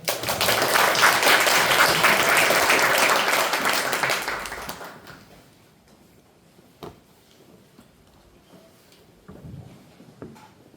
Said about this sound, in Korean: 다시 한번 우리 찬양 연주하시는 분들 박수 한번 주세요